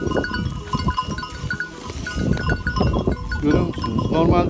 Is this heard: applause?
no